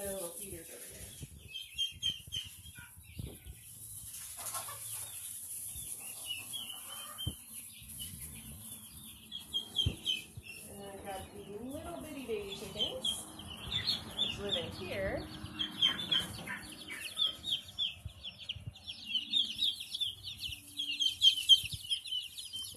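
Baby chickens and turkeys peep and cluck softly and repeatedly, with occasional wing flutters and shuffling close by, and a person speaks now and then.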